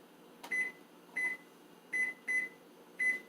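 A kitchen timer being set while cooking steak gives five short, evenly spaced electronic beeps, close and clear in a quiet room.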